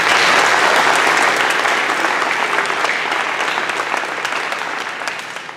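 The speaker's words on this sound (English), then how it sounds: "so I'd like him to have a round of applause" An audience at a high school athletic banquet gives a round of applause for a javelin thrower, steady, full clapping from many hands that slowly tapers.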